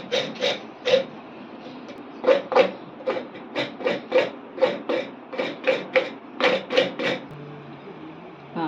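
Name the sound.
grating coconut by hand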